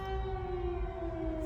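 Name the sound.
loud emergency siren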